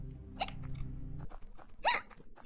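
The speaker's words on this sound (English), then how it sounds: "Sorry, I hiccup." A streamer's hiccups: two short, sharp vocal bursts, one early and one near the end, over a steady low hum with no speech.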